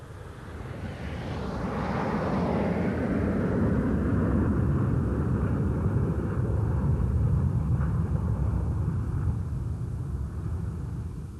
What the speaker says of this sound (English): the main section raises its undercarriage and starts a steep climb away